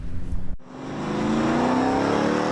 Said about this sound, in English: We're seeing revving engines, drag racing.